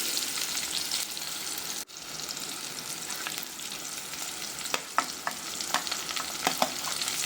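Chopped onion sizzles in a pan of oil with green chilies for a dal fry tadka, a steady close frying hiss throughout with a few sharp stirring clinks near the end, no voices.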